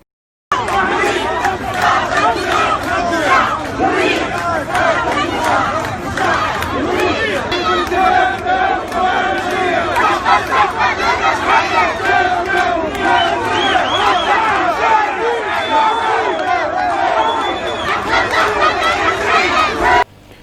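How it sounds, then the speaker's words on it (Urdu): Protesters chant slogans in a dense, continuous crowd roar during a clash with security forces, with massed shouting voices holding steady and loud throughout. "مظاہرین اپنے گرفتار ساتھیوں کی رہائی اور انصاف اور ترقی کے لیے نعرے لگا رہے تھے۔"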